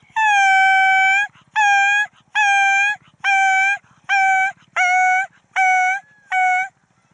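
A voice imitates dogs, giving a long sustained howl followed by a series of shorter howling barks in a steady rhythm, loud and close, outdoors near a railway in the evening.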